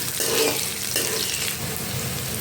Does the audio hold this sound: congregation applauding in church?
no